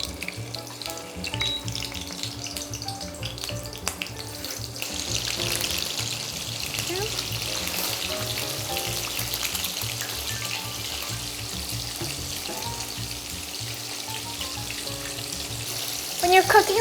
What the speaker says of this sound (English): You can hear that nice sizzle.